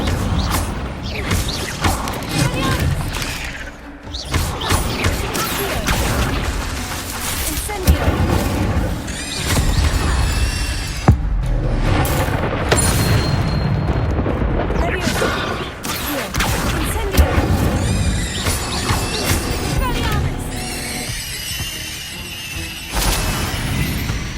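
An Incendio fire spell is cast in the Hogwarts Legacy video game during a fight with giant spiders. Loud, dense booms, crashes and impacts play continuously, with voices mixed in.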